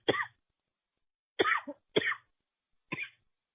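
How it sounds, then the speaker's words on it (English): Four separate coughs from someone in an audience, fairly close and sharp, spaced irregularly over a few seconds with silence between them and no talking. "Who's coughing out there?"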